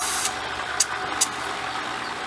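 Repaired Intex 635T 1500 GPH pool pump running, a steady close mechanical hum and whir with broad hiss, broken by two brief sharp ticks.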